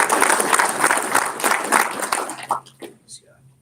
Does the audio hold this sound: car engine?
no